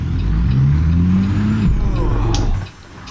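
A heavy truck engine revs loudly and close, its drone climbing in pitch after the brakes are released, then dropping away sharply near the end.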